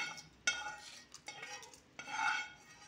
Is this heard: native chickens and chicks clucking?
no